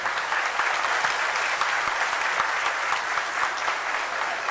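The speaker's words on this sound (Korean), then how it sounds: "박수 부탁드립니다." Steady applause from a seated audience at a Seoul district government event, many hands clapping at even strength with no voices over it.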